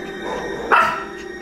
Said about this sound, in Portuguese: Senão os cachorros não ficam quietos querendo que eu coloque ela no chão.